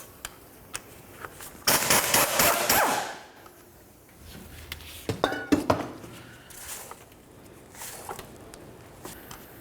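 Metallic clinks and rattles from removing the drive shaft mounting bolts at the rear differential of a 2006-2012 Ford Fusion, with a louder burst of clattering tool and bolt noise followed by scattered lighter taps.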